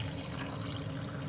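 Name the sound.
pouring warm water into yeast for wheat kulcha dough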